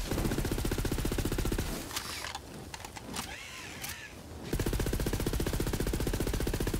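Rapid automatic gunfire from a weapon in Borderlands 3 rattles in dense bursts, breaking off for a couple of seconds of clicks and mechanical noises before the steady stream of shots resumes.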